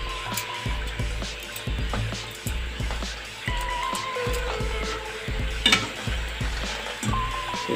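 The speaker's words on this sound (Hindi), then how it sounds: "इसको भी फ्राई होने देते हैं" Litti, dough balls stuffed with sattu, frying in hot oil with a steady bubbling sizzle and repeated soft thumps and scrapes of a utensil against the pan, close and moderately loud.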